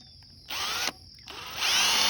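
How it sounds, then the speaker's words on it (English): Power drill boring an angled hole into a gate post for an electric fence gate, two close bursts of high whining motor, the second longer and steadier. "And we drill at an angle this way."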